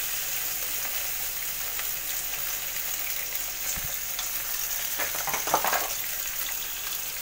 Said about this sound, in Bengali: প্রথমে আমি কেটে রাখা পেঁয়াজ কুচিগুলো দিয়ে দেবো,